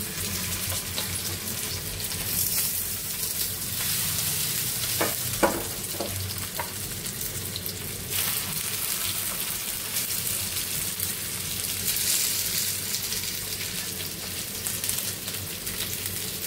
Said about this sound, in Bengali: সবগুলো আমি একসঙ্গে ভেজে নিচ্ছি হালকা তেল দিয়ে